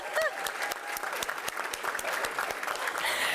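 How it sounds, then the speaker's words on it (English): Audience at an engineering innovation prize final applauding, steady dense clapping from a crowd throughout, fairly distant and moderately loud with a brief tonal whistle near the start. "Please give him a round of applause."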